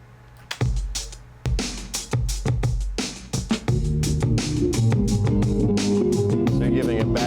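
A music track with a frequency filter sweep applied, thin and choppy with sharp percussive hits at first, then opening into a fuller, sustained mix with bass and chords returning after about four seconds.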